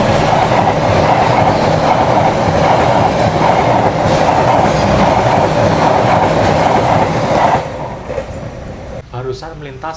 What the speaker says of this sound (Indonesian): Barusan melintas kereta api kelas ekonomi dan eksekutif.